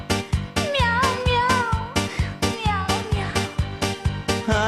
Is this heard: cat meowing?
yes